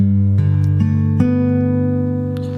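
Fingerstyle acoustic guitar plays the first bar of a song intro, plucked notes stepping upward one by one and ringing together, close and clear with nothing else audible.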